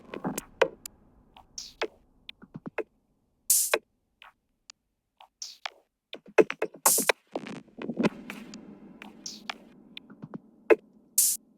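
Scattered glitchy electronic hits, clicks and short bright noise bursts popping in irregularly, some sparse with silences between, others clustered into busier stuttering bits.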